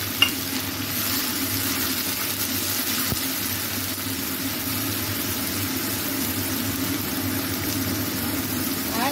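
Ground onion paste and green chilies frying in a pan, giving a steady, close, dense sizzle that holds evenly throughout with no talking.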